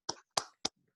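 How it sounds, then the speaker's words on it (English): Three sharp hand claps from podcast hosts closing out an episode, spaced evenly and close up, with quick decays and no talking. "Let's clap it up."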